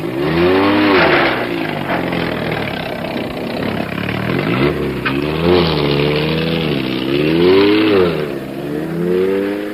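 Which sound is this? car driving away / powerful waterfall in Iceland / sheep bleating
car driving away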